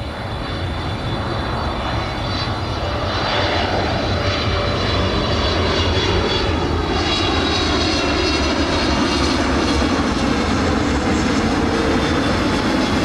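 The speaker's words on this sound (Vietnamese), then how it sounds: "Cuối cùng là pha hạ cánh của một chiếc Boeing 777F của Qatar Airways." A Qatar Airways Boeing 777F cargo jet lands at Noi Bai, its engines roaring loud and steady throughout with a broad rushing whine that swells slightly as it passes close, no talk.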